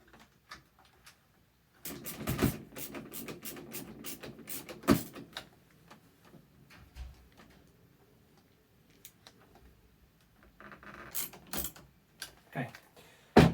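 A small plastic cover is screwed back onto an HP MFP 179fnw printer during a fuser unit replacement, producing scattered sharp clicks, taps and rattles of plastic and screws, close and intermittent with quiet gaps between.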